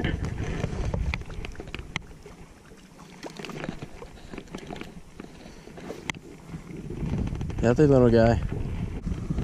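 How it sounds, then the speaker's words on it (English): Wind buffeting the microphone while fishing for bass from a boat, rough low rumbling gusts throughout with someone speaking briefly over it and a louder gust near the end. "This wind makes it so hard to fish."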